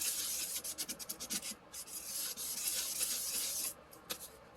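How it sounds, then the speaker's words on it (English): A steady close rubbing and scuffing across an acrylic tumbler's surface around its holes, with quick rhythmic strokes at first, then a smoother continuous scrub, fairly quiet. "Make sure we're scuffing up around those holes so that this all it will adhere when we put it on there"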